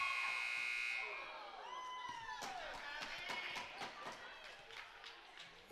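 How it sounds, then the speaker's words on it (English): A loud electronic buzzer blares for about a second to end a quarter of a high school women's basketball game between Herriman and Bingham in a gym, then gives way to squeaking sneakers, a bouncing ball and a murmuring crowd. "The alarm had gone off"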